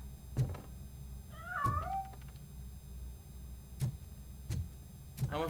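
A cat in RoboCop Rogue City gives a single clear meow, with a second brief cry near the end, set among a few heavy thudding footsteps and low background hum.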